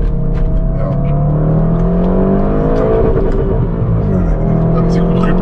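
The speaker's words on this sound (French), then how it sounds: "Un petit coup de rupteur, tu vois." An Audi RS6 engine revs hard and repeatedly bumps the rev limiter, a loud, close, rising and falling engine drone with stuttering bursts, while people talk over it.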